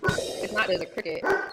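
A dog barks and yips a few times in the background while someone talks over it, the barks sharp and fairly close but partly masked by the voice.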